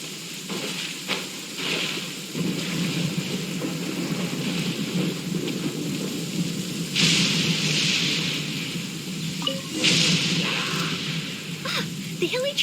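Rain falls steadily in a Genshin Impact thunderstorm, a dense hiss with occasional louder bursts and rumbles, while voices speak over it.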